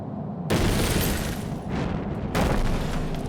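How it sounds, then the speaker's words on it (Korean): Explosion sound effect aboard Japan Airlines Flight 123 in flight near Mount Fuji, a sudden loud broadband blast followed by sustained roaring noise and a second surge, with no speech. "엄청난 폭발음이 기체 전체를 뒤흔들었다"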